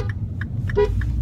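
Short repeated car horn beeps from another driver, a black Mini, sound over steady road and engine rumble inside a moving car on a drive home in Dunstable.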